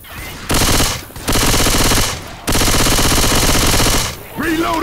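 Long sustained bursts of automatic gunfire in the zombie shooter Left 4 Dead, three loud continuous volleys with brief gaps between them and a voice starting at the end.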